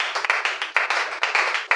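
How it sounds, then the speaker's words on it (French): Loud, close clapping from a church congregation during a French-language sermon in Brazzaville, a rhythmic run of sharp, fairly regular claps lasting under two seconds. "Applaudissez pour vous-même alors."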